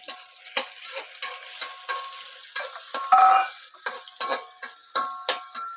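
Chopped green chillies fry in a pan for homemade chilli chicken, with a spoon scraping and tapping in a steady run of sharp clicks over a faint sizzle.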